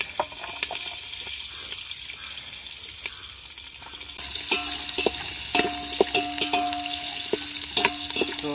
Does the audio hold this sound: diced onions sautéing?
yes